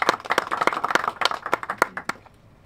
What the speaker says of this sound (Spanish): Así que también un aplauso a la distancia